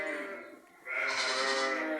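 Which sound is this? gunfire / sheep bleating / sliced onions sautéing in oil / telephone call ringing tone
sheep bleating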